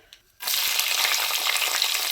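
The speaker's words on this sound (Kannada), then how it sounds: "ಈಗ ನೋಡಿ ಒಗ್ಗರಣೆ ಹಾಕ್ತಾ ಇದ್ದಾಳೆ." Tempering spices hit a pan of hot ghee and oil for ghee rice with a sudden loud sizzle that stays strong and steady afterward, close up with no voices.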